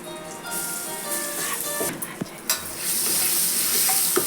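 Ginger garlic paste sizzling and being stirred into frying masala, a loud continuous hiss with scraping strokes of a spoon in the pan and a few sharp clicks, growing brighter and louder toward the end.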